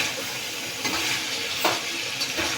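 Chicken pieces with tomato, chili powder and salt frying and being stirred in a pan, a steady close sizzle with a few brief scraping stirs and no talk.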